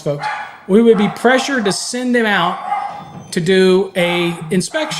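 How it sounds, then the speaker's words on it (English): Indoor dogs bark and yip intermittently in the background, mostly masked beneath someone speaking steadily at close range. "And sorry about my dogs,"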